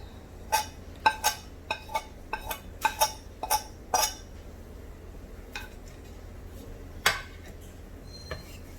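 A metal spoon clinks and scrapes against a pan while turmeric is stirred into an onion, chili, garlic and ginger curry, a quick run of sharp close taps, then a pause and a few more later.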